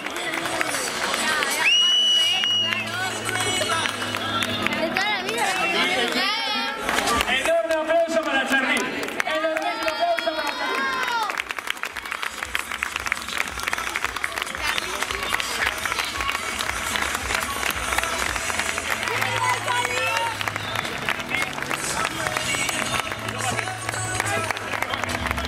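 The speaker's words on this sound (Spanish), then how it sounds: "Enorme aplauso para él. Enorme aplauso." Spectators at a cross-country race in Falces give a finisher a loud, continuous round of clapping and cheering over crowd chatter. A public-address voice and background music carry through the applause.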